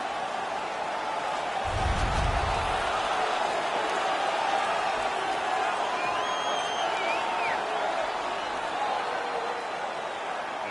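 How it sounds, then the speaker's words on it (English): Ice hockey crowd noise at a playoff game between the Sabres and the Detroit Red Wings after a fight, a steady roar of cheering throughout with a brief low thump early on. "The crowd is so pumped right now."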